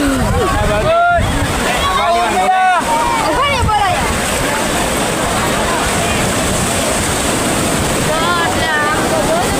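Sea waves wash ashore at Somnath, a steady roar of surf and wind buffeting the microphone, with voices and a few tonal calls rising over the noise in the first seconds.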